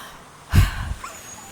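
A dog gives a short, soft whimper with a snuffling breath, quiet and brief against a hushed background.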